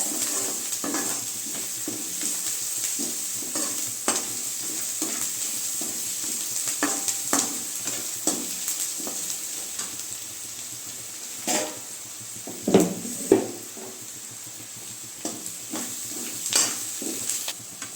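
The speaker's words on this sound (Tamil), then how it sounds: "இப்போ பார்த்தீங்கன்னா வெங்காயம் நல்லா வதங்கி வந்துருச்சு" Chopped onions sautéing in a pan for a soya chunk (meal maker) gravy, a steady close sizzle with repeated scraping stirs of a spatula running throughout, no voices.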